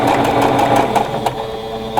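A sewing machine stitching the seams of a quilt block runs loud and close in a fast, steady mechanical whir with rapid rhythmic needle ticking and no talk.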